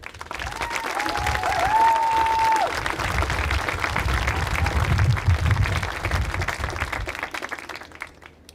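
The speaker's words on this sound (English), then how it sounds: "let's give our seniors a round of applause" An audience at a senior awards event breaks into sustained applause for the seniors, steady clapping filling the room with a brief whistle-like tone early on, tapering slightly at the end.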